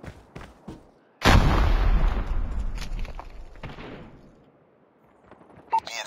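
In Call of Duty Mobile, a grenade bursts suddenly after a quiet moment with a loud, deep blast. Its rumbling roar slowly fades over several seconds, with faint gunfire crackling before and after.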